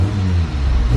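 A car engine fitted with an LHT supercharger blower idles close by, a heavy low rumble with a steady droning hum and slight rise in level near the end.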